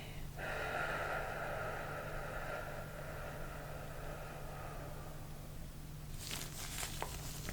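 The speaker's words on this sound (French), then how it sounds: "Inspirez. Soufflez." Someone draws a deep, audible breath in and lets it out slowly during an osteopath-style relaxation session, the airy breathing close and soft over a faint steady background hum.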